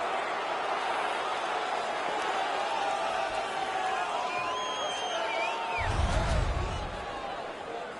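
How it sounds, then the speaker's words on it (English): A stadium crowd roars continuously in the background of an NHL 17 hockey video game while whistles and game sounds rise over it, with a dull thud near the end. "You can hear the crowd."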